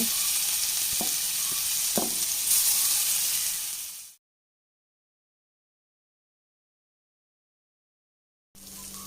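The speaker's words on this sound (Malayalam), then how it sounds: "എണ്ണ ചൂടായി വന്നിട്ടുണ്ട് ഇനി നമുക്ക് ഒരേ കായ ഇതിൽ എടുത്തിട്ട് ഫ്രൈ ചെയ്തെടുക്കാം" Raw plantain frying in hot oil in a large pan gives a loud, continuous sizzling hiss with a few light clinks. It cuts to silence for several seconds, then the sizzle returns.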